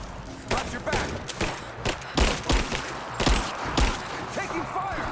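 Game gunfire from Rise of the Tomb Raider at a Soviet installation: repeated thumping shots and short bursts in an irregular rhythm, fairly loud, mixed with shouting voices and combat clatter.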